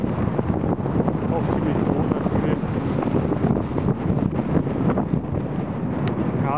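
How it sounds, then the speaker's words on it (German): Steady outdoor wind buffeting the microphone, a constant low rumble with gusts throughout, no clear voices. "Ist natürlich jetzt heute ein bisschen windig"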